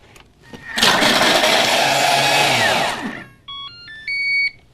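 A Thermomix TM31 blends oranges and ice at top speed, a loud, dense whirring roar lasting about two seconds that cuts off, followed by a short series of rising electronic beeps.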